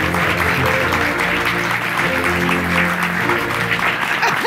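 Loud, sustained applause from a studio audience on a Turkish TV talk show fills the whole stretch, dense and close with a faint voice underneath.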